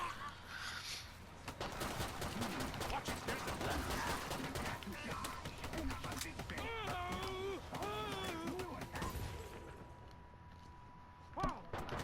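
Rapid bursts of gunfire in a video game fire in quick succession throughout, with voices chattering over the shooting.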